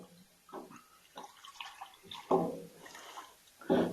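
Hot tap water runs and splashes into a container to dissolve dextrose for a turbo-yeast moonshine mash, coming in intermittent gushing bursts with louder surges near the end.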